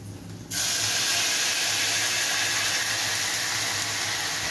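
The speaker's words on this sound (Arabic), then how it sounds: "هنزل الاول بالخل اهو" Vinegar poured into a hot pan of Egyptian kushari sauce sets off a sudden loud hiss that holds as a steady, dense sizzle, with no voices.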